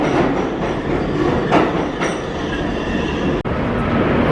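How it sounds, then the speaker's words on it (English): A New York City local 5 subway train pulls into a station, a loud continuous rumble of wheels and car noise close by, with a couple of brief rattles and a sharp momentary dropout near the end. "There is a local 5 train to Eastchester Dyer Avenue,"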